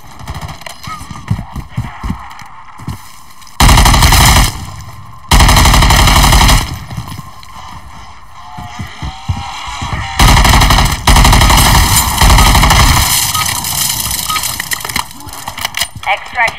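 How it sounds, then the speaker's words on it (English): Bursts of gunfire in Modern Warfare 3 Zombies on PC, heard as loud rapid automatic volleys in several separate stretches, mixed with other game sounds and a player talking. "Oh, he's shooting me."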